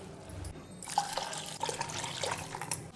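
Water poured into a cooking pot while making jowar (sorghum) khichdi, a steady splashing flow with small drips and gurgles, close and moderately loud, with no talking.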